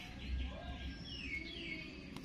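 Oriental magpie-robin song with varied whistled phrases and chirps, fairly faint over a low background rumble.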